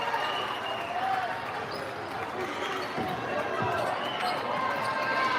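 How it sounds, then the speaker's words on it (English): Crowd noise at a basketball game, a dense continuous roar of voices and cheering with sneaker squeaks and a few thuds, steady and loud throughout. "The crowd is going wild."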